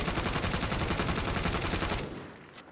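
A rifle with a SUSAT optic in Call of Duty Warzone fires a rapid, continuous automatic burst for about two seconds, loud and close, then stops abruptly into quiet.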